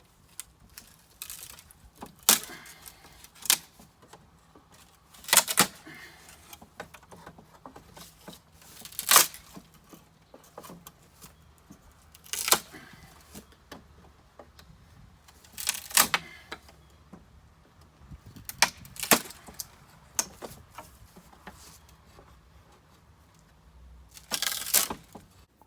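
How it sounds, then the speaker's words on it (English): Chunks being pried off old walkway boards: sporadic sharp cracks and creaks at irregular intervals, fairly quiet, with faint handling noise in between. "So I'm going to pry off some chunks and get to work."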